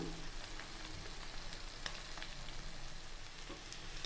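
Chicken ghee roast sizzles steadily in a pan after curry leaves go in, a soft continuous frying hiss with a few small pops, faint and close, with no talk.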